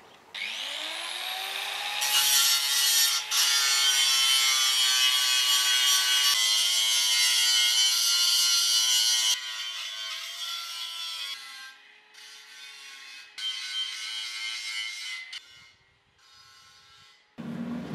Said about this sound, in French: nettoyer, beaucoup de meule, enlever la peinture et la rouille